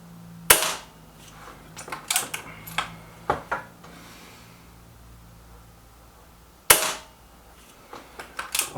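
A sub-12 ft-lb .22 air rifle fires slugs, two sharp loud cracks about six seconds apart, with clicks and handling knocks in between, no talk.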